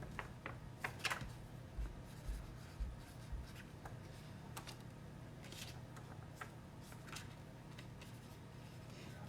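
A white chalk marker scratches and rubs across a surface in short, soft strokes, with a few sharper scrapes early on, faint against a low hum.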